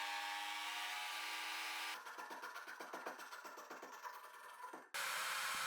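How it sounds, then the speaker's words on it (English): A power tool cuts a groove in wood for a back bearing on a DIY jigsaw table, a steady close whine that breaks into rapid rough chattering pulses for about three seconds, then returns to the smooth whine. "I cut a groove for the back bearing."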